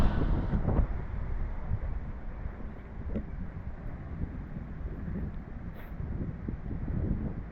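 Strong wind buffets the microphone with a steady low roar and gusty rumbling throughout, and no voices are heard.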